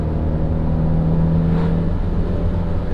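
A turbocharged CD5 Honda Accord engine hums steadily and loudly with a sustained tone, the pitch dipping slightly near the end as it keeps driving on the road.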